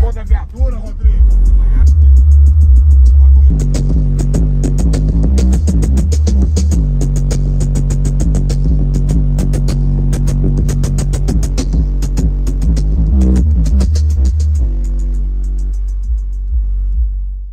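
Booming bass from a loud car sound system in a Chevrolet Blazer, a deep throbbing low end pounding continuously and very loud, with music layered above and brief breaks in the beat.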